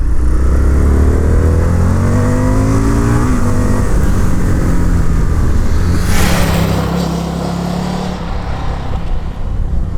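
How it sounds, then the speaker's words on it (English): An Indian FTR1200 S V-twin motorcycle accelerates hard in second gear, its revs climbing in rising harmonic sweeps, loud and close, with a brief burst of wind noise before the engine note settles. "bang it down into second and then pick up the revs, and oh my god, it goes"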